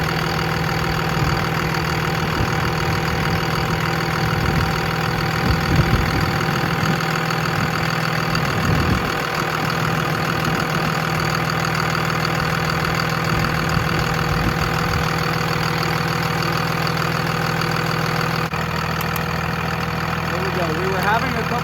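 A built 24-valve Cummins diesel engine idling with a steady, even low rumble and a faint knocking rhythm, close by, while a person talks over it at times.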